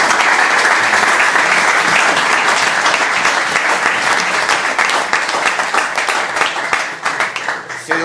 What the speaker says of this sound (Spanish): que este aplauso sea vuestra feliz bienvenida